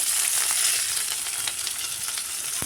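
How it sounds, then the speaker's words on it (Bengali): Chopped onion frying in hot oil and ghee for a rustic vegetable dish, a loud, dense and continuous sizzle with a faint crackle and no voices. "দিয়ে দিচ্ছি পেঁয়াজ কুচি।"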